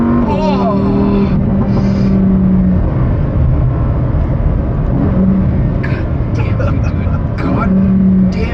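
A Lamborghini STO engine revs and accelerates loudly up close, the pitch climbing and dropping through gear changes, while an excited voice talks and exclaims over it.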